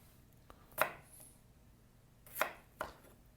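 A knife chops food into one-inch cubes on a board, three sharp, close cuts spaced irregularly over a few seconds against a quiet background.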